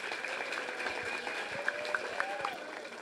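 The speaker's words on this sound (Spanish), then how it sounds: "le pido a ustedes que le den un aplauso a esos dos por la participación" Applause from an audience at a talk on game development and esports, a steady dense patter of clapping that carries through the whole stretch with voices mixed in.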